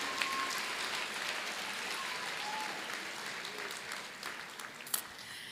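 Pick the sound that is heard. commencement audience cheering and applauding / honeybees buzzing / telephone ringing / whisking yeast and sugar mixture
commencement audience cheering and applauding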